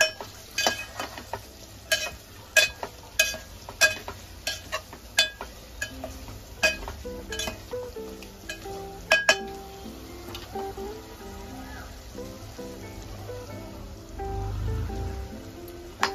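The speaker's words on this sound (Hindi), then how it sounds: "इसमें आलू डालेंगे और इसे भी मसालों के साथ अच्छी तरह से भूनेंगे" Potatoes stir-fried with spices in a pan for aloo gosht korma: a spoon clinks sharply against the pan in an uneven rhythm over a soft, steady sizzle, with no talking.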